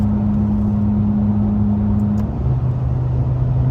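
A Ferrari 458 cruising in seventh gear on a highway, its engine holding a steady low drone under continuous road and wind noise throughout, with no talk.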